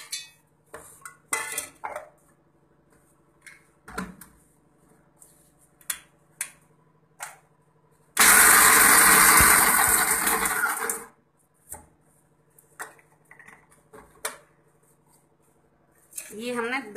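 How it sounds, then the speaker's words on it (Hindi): An electric mixer grinder pulverises almonds in a kitchen, one loud whirring burst of about three seconds, surrounded by clinks of dishes and spoons and occasional talk. "पहले हम बादाम पीसेंगे।"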